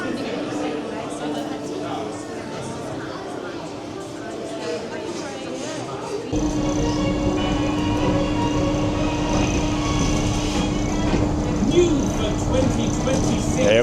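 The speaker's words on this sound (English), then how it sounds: "Here we go on the monorail" Alton Towers monorail ride: a steady low rumble and whine of the train running throughout, growing louder and fuller about halfway through as it picks up, with people talking over it.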